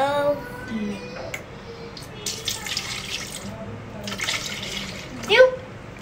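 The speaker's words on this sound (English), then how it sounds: "So first we're gonna put our milk." Milk poured into a large blender jar for a strawberry drink, a faint liquid splashing and trickling in short bursts with soft background noise and a sharper sound near the end.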